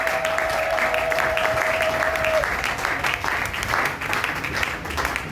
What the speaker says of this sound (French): Applaudissons très fort pour le roi des rois.